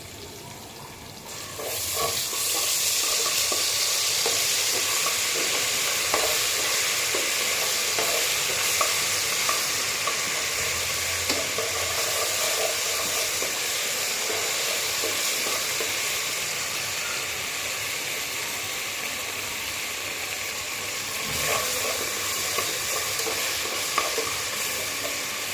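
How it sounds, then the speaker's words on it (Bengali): Chopped onions fry in oil with ginger and garlic for pulao, giving a dense, constant sizzle with scattered crackles and light stirring scrapes that runs loud and close for over twenty seconds, with no one speaking. "এটা আমি ভালো করে ভেজে নিব যাতে কোনো আদা রসুনের গন্ধ না থাকে"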